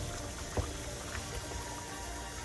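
Beef curry with white radish simmering in a pot, a steady low bubbling and sizzle with occasional soft pops, close and even throughout.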